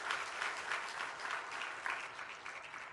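A congregation applauds at a church ordination ceremony marking a Korean church's 20th anniversary, steady broadband clapping sustained throughout at moderate level, with no talk over it.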